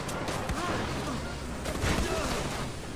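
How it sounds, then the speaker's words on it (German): Gunfire aimed at the player in the Far Cry 4 video game, a dense, continuous barrage of shots that stays loud throughout and blurs into a rough, noisy roar. "dass auf mich geschossen wird"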